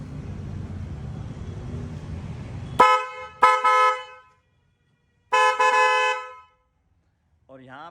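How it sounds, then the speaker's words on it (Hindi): Loud, bright trumpet horn blasts on a vehicle fitted with a 4-pin horn relay, after a stretch of engine rumble: two short toots, then a longer held blast, with a brief voice at the end. "टम्पेट हॉर्न की आवाज़ सुनाता हूँ।"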